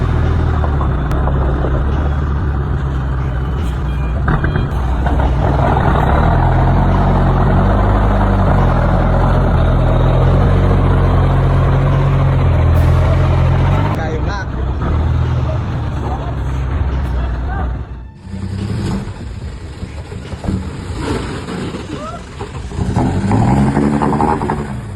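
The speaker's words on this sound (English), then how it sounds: "Massive tires of the timber truck churned relentlessly, biting into the viscous mud that had swallowed them whole." A timber truck engine roars steadily under load as its massive tires churn through viscous mud, heavy and sustained, then dips briefly before picking back up.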